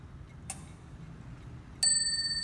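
An 1880s French marble three-piece clock signed Paris gives a soft click, then strikes its bell once, a bright ringing tone that lingers and slowly decays in a quiet room.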